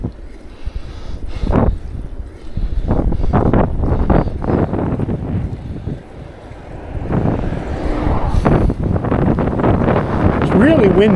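Strong wind buffets the microphone while a cyclist rides a bike on an open, exposed road in Korea, a steady loud rumble running under talking throughout.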